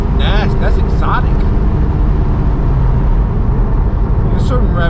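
A straight-piped BMW M4 G82 with a downpipe and a Valve Master titanium exhaust drones loud and raw in a close, continuous roar, with rising rev sweeps near the start and someone talking over it.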